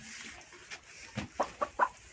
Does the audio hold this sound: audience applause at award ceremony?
no